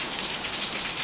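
Heavy rain pours steadily inside a Saudi house that is flooding, a dense, even hiss of water falling on surfaces with no pauses and no voices.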